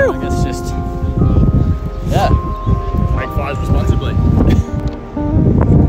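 Strong outdoor wind buffets the microphone with a loud, continuous rumble and rustle while a person talks over it.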